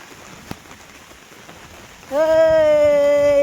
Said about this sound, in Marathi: बघते आता कितकोसो पावस येता तो. मजा घेते पावसाची.